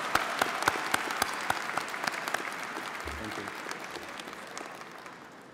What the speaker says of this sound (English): Please join me in an applause.